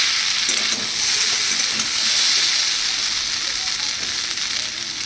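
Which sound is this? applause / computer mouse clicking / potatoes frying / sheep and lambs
potatoes frying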